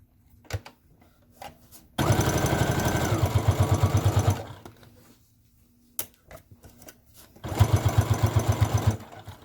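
Sewing machine top-stitching along the edge of a dog leash, two runs of rapid rhythmic stitching, about two seconds and two seconds long, separated by quiet pauses with small handling clicks.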